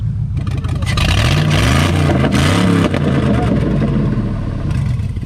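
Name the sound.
turbo truck engine revving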